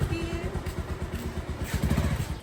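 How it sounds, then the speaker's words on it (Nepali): A motorcycle engine runs steadily while being ridden on a road in Dolpa, Nepal, its low throbbing rumble continuous and fairly loud with occasional clattering bumps. "उहाँको बाइक चलाउँदैछ"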